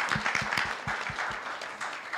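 Scattered hand claps from an audience at an induction ceremony, a handful of distinct, fairly soft claps close together over a light crowd murmur.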